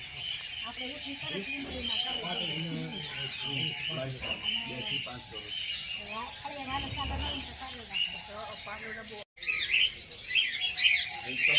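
A dense chorus of small white and blue sparrows chirps and twitters continuously in an aviary at Vadodara zoo, while a person talks over it nearby.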